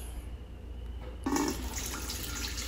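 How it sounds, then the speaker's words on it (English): A large pot being filled with distilled water: after a quiet moment, a steady pour of liquid starts and runs continuously and fairly loud until the end. "We'll go ahead and fill this pot up real quick here."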